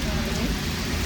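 Rain falls steadily in Lucerne, a dense, even hiss of drops that holds constant throughout, with a voice faintly present beneath it.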